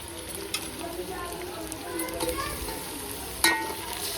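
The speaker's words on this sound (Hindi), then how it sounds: "फिर हम डाल देंगे चिकन, ये डाल दिया हमने चिकन" Chicken pieces hit hot oil with onions in a pan, giving a soft, steady sizzle with light stirring scrapes and a sharp clink near the end, quiet and close.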